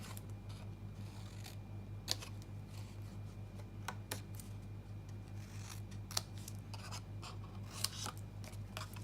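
Scissors cut into scored card for a tealight box craft, giving a handful of crisp, isolated snips spaced a second or two apart over a low steady hum.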